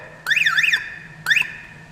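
A remote-triggered Aliexpress car alarm wails in one warbling burst, then gives a second brief chirp before cutting off, loud and close with no other sounds.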